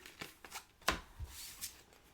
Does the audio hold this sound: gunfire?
no